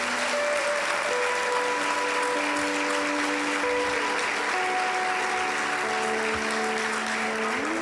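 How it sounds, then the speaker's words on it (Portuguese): A church congregation at an evangelical service gives a loud, continuous round of applause, a dense, sustained wash of clapping from many hands with faint sustained musical tones beneath. "Uma salva de palmas ao Senhor."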